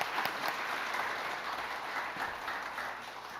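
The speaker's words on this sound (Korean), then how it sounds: "성가대 늘 하나님께 영광을 돌리고 아울러서 은혜의 통로고 축복의 통로인데 박수 한번 해주십시오" A church congregation applauds the choir, a dense steady patter of many hands clapping at moderate distance with no voices over it.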